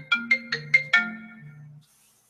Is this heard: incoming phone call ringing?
yes